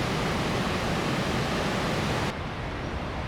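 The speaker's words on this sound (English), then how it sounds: "The sound of the water flow was deafening." A river rushes loudly through a forest on a trek in Nepal's Manaslu region, a deafening, continuous roar of flowing water that dips slightly in level partway through, with no voices.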